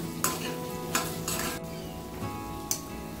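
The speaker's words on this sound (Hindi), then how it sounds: "तो अब डाल देंगे ये कटे हुए आलू और इनको अच्छे से मिक्स करेंगे एक बार।" Chopped potatoes are stirred into sizzling spiced masala in a pan, a spoon scraping in a few distinct strokes over a steady frying hiss.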